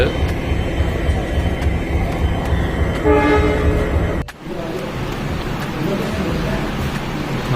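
A train rumbles past nearby with a loud, steady roar and a brief horn-like tone, then the noise shifts abruptly as it continues.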